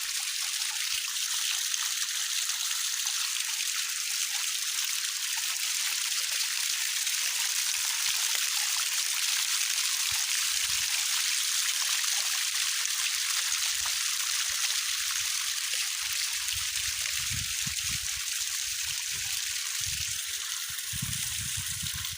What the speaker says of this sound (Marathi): छोटा धबधबा महाराष्ट्रातील नंबर वन धबधबा